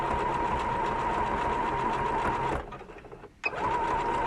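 Sewing machine zigzag-stitching fabric, running steadily with a fast mechanical whir for over two seconds, then stopping briefly before a sharp click and a restart.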